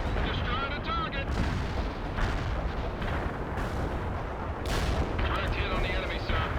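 An Abrams tank firing on a target in the game World in Conflict, heavy booming cannon fire and rumbling battle noise, continuous and loud, with voices talking over the combat.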